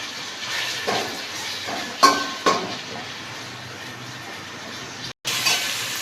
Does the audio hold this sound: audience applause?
no